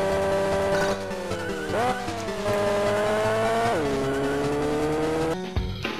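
Synthesized engine of a car racing video game on Game Boy Advance, a three-lap race against other vehicles: a loud, continuous buzzy whine that holds steady, dips and rises in pitch twice, then cuts off near the end, with no voices.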